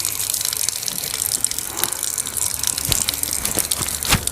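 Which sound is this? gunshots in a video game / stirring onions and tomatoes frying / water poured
water poured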